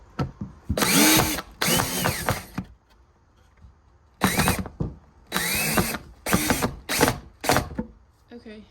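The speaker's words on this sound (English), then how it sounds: "So I'm having to like screw through this bracket and in the wall at the same time" A power drill drives a screw through a bracket into a wall, whirring in several ratcheting bursts of about a second each with brief stops between, close and loud.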